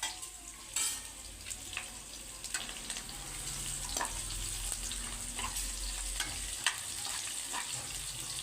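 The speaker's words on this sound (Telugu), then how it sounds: "ఇప్పుడు ఇందులోకి మనము ముందుగా పచ్చిమిర్చి, వెల్లుల్లి రెబ్బల్ని కూడా వేసేసి లైట్గా ఫ్రై చేసుకుందామండి" Green chillies and garlic cloves fry lightly in oil in a kadai, giving a soft continuous sizzle with scattered pops and occasional spoon scrapes at low, moderately close level; no one speaks.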